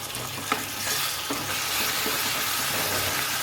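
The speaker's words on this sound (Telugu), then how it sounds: "ఇక్కడ తాలింపు కూడా ఫ్రై అయిపోయింది కదా ఇప్పుడు మనం ఇందులోనే వేసి కలుపుకుందాము" Tempering spices sizzle in hot oil in the pan for a gongura meal maker curry while a spoon stirs them in. The frying is continuous and close, with small clicks and scrapes from the stirring and no talk.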